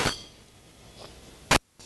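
A spoon knocks against a bowl of chipotle white sauce, making two or three short, close metallic clinks, one sharp and loud near the end, in otherwise quiet surroundings.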